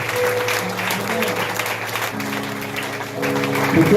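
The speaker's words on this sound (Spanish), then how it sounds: "¿Puede dar un aplauso al Señor por su palabra?" A church congregation applauds together after a sermon, a steady, moderately loud round of clapping that continues throughout, with a sustained organ or keyboard tone and a few faint voices underneath.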